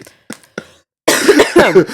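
Three quick, soft coughs come close together, followed by a person talking right afterward.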